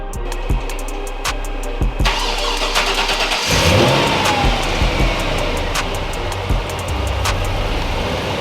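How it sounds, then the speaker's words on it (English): A Nissan 350Z engine cranks briefly, then catches and fires up close by, revving a little before settling into a rough idle; the car has a fluid leak after a rack and pinion replacement. "start up the car and see what happens"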